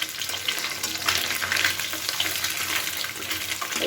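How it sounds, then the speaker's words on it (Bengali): Small chuno fish frying in hot oil, a steady close sizzle with watery crackle running throughout and no talk. "একদম লাল লাল করে মাছটাকে ভেজে নিচ্ছি"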